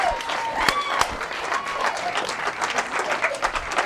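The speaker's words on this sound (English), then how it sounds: "Everybody give her a big round of applause." An audience claps for a volunteer at a magic show, dense applause running throughout with a few sharper nearby claps and faint voices mixed in.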